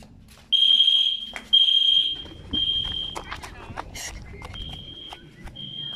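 Smoke alarm in a home garage sounding a series of loud, piercing high beeps in an uneven rhythm, with one beep cut short, while people talk and move around nearby.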